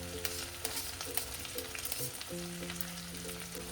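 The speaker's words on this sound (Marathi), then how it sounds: "ऑनियन आणि ग्रीन चिली फ्राय करून घ्यायचं थोडं ब्राऊन होईपर्यंत." Onion and green chili frying in a pan for an egg dish, a steady close sizzle with scattered stirring scrapes and a low background hum throughout.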